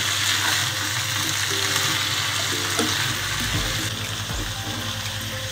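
Pumpkin sabji being stirred in a pan on the stove, a steady soft sizzle with scraping and stirring noises running throughout, close and continuous with no talk.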